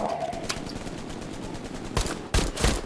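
A machine gun fires in Hell Let Loose, a steady loud stream of rapid shots running throughout, with heavier bursts near the end.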